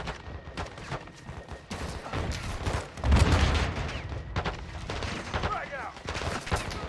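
Bursts of automatic gunfire and booms from a Call of Duty: Modern Warfare II firefight, loud and sustained with a heavy blast near the middle, mixed under game voices.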